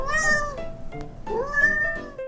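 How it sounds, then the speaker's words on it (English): Two drawn-out cat meows, close and clear, separated by a brief pause, each rising then falling in pitch. "It's a cat."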